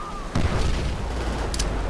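A close explosion in the World War I shooter Call of Duty, a sudden heavy boom followed by a sustained low rumble and crackling debris.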